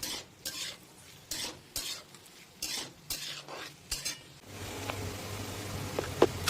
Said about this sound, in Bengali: আলু পেঁয়াজ দিয়ে ভালো করে এটাকে আমাদেরকে ভেজে নিতে হবে